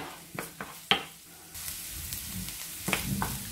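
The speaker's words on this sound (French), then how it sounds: "On va faire revenir l'oignon dans un peu d'huile jusqu'à ce que ça devienne translucide." Onion frying in a little oil, followed by garlic and frozen spinach dropped into the pan, gives a steady sizzle with a few sharp clicks and stirring scrapes, close and fairly quiet, with no voice over it.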